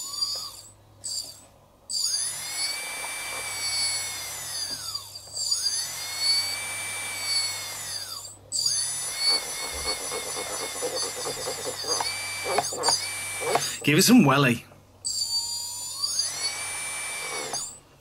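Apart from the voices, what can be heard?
drone motor from an old drone spinning up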